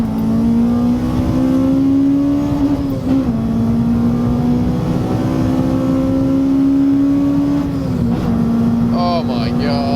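A Honda Civic Type R EP3 engine revs hard in second gear and climbs steadily in pitch, dipping briefly at a gear change before rising again, loud and close with wind buffeting.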